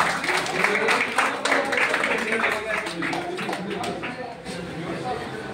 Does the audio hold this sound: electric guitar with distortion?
no